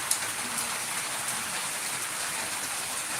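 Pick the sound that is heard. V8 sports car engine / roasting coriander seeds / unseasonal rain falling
unseasonal rain falling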